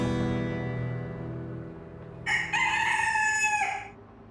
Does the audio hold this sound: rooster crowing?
yes